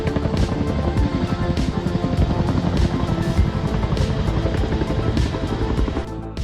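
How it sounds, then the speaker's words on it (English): A helicopter tanker hovering over a pond to take on water for wildfire fighting, a loud, steady rotor roar with rhythmic blade chop that holds constant throughout, recorded from a drone. "This drone footage shows a helicopter tanker refueling with water at the North Pond in Silverton."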